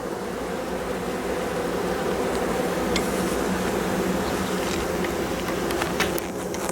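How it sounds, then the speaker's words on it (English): A dense, continuous drone of many honey bees buzzing close by at an open hive during an October inspection, steady and unbroken with occasional faint clicks. "A lot of bees."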